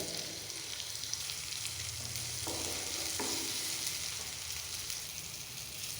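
Chopped onion and tomato sizzle steadily in a hot pan, with a few scraping stirs breaking through the constant frying hiss.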